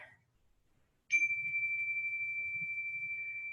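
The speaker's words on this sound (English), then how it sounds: "So let me ring my little bell here." A small meditation bell struck once at the start of a gentle yoga session, a clear bright ding that rings on in a long, slowly fading tone in a quiet room.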